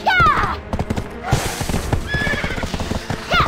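A horse clip-clops in on hooves and neighs loudly several times, close by, while people talk over it.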